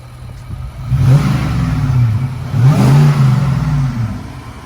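Supercharged Tuff 62 4x4 engine revving nearby in two loud surges, each rising and falling in pitch with a whirring blower whine over the engine roar.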